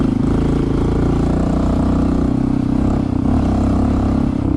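A Honda CT 125 motorcycle engine drones loudly and steadily on a rough road, a close, continuous low thrum with a fine rapid firing pulse and no talk.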